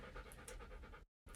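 Otto the dog pants in quick, rhythmic, breathy huffs close to the mic, a steady run of short gasps that cuts off briefly into silence before resuming.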